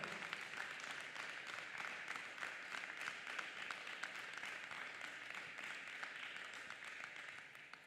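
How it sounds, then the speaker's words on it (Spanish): A church congregation applauding during a sermon, a faint but continuous patter of many hands clapping at a distance, steady and fairly even across the whole stretch. "Denle un fuerte aplauso al Señor."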